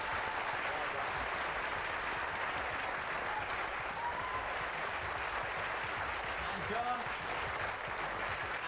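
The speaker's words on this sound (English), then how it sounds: "John van Merweskamp from the Netherlands deserves a great round of applause" Studio audience applause on a 1989 Going for Gold European final game show for the defeated finalist, a steady, fairly distant wash of clapping with faint voices underneath throughout.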